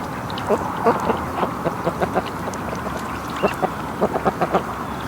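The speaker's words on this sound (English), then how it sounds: "We got Muscovies over on the other side of the lake now." Muscovy ducks make scattered short calls in irregular bursts somewhere across a lake, moderately distant over a steady outdoor background.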